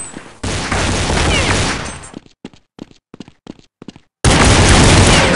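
Bursts of gunfire in Counter-Strike 1.6: a long loud roaring volley, then a string of sharp separate shots in quick succession, then another heavy sustained barrage, all close and loud.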